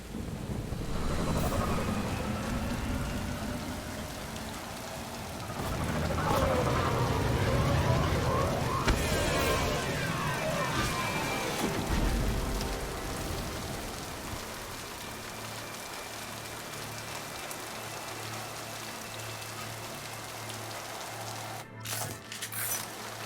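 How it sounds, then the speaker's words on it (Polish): Steady rain pours in a dark, stormy scene in the game Mass Effect 2, a dense hiss with deep rumbling swells like thunder, fading slightly toward the end. "tym razem mamy raczej deszczową scenerię"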